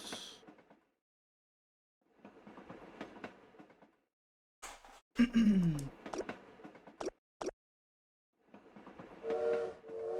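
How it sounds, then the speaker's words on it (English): Train sounds in the cozy video game Little Witch in the Woods: intermittent rumbling carriage noise, a sudden clatter and a falling whistle-like tone midway, then sharp knocks and a renewed rumble with a tonal horn near the end. "Let's unmute the train noises."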